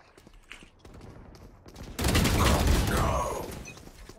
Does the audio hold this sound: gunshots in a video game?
yes